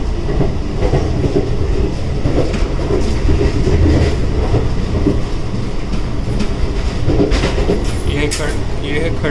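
The Deccan Queen Express runs on rails between Mumbai and Pune, a loud continuous rumble with rhythmic wheel clatter heard from inside a coach, with people talking over it.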